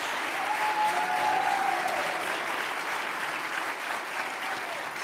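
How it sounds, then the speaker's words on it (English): Audience applause fills a town hall after a congresswoman is introduced, a dense, steady clapping from a large crowd that holds loud throughout and eases slightly toward the end. "give a big round of applause to my friend, our Congresswoman"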